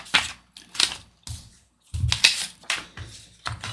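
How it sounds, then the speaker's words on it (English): Adhesive backing peeled off a Disney dollhouse kit part, a series of short crisp ripping and crackling bursts heard close up, separated by brief pauses. "Peel it."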